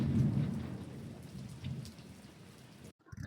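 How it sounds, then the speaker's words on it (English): Steady rain with a low rumble of thunder at a ranch, continuous and close for a few seconds, then breaking off into near silence. "It's still raining, but not as bad."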